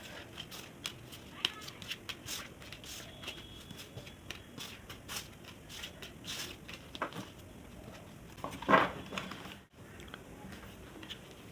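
Tarot cards being gathered and shuffled by hand, giving a soft run of papery flicks, rustles and light taps close by, with one brief louder shuffle burst near the end and no talking.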